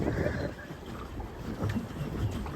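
Steady wind buffeting a microphone aboard a boat on Lake Endine, Italy: a constant low rumbling roar with a broad hiss, close and fairly loud throughout, no clear voices.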